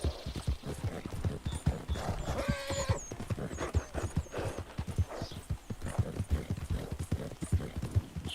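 A horse in Red Dead Redemption 2 gallops with a rapid, steady clip-clop of hooves that runs throughout, while the horse briefly neighs partway through.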